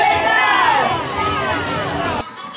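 A protest march crowd on Labour Day shouts for justice and freedom, a loud mass of voices rising and falling together before cutting off abruptly near the end.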